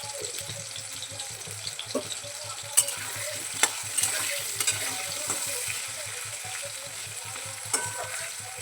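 Potatoes, salted and seasoned with turmeric, frying in a pan: a continuous close sizzle with repeated stirring scrapes and occasional sharper clacks of the utensil against the pan.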